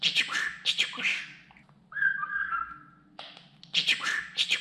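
Close, lively budgerigar chatter: clustered chirps at the start and end frame a steadier warbling whistle in the middle.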